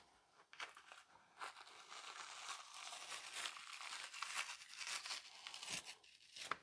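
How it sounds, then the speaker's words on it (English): A paper towel crinkles and tears in close, irregular bursts while silver skin is peeled off baby back ribs, quiet and steady with no talking. "I normally take a paper towel."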